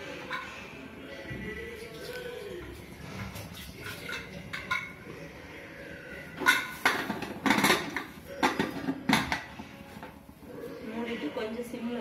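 In a home kitchen, the metal lid of a pressure cooker holding mutton curry is handled and shut. Clanks and knocks come up close, with a quick cluster of them toward the end, while someone speaks softly.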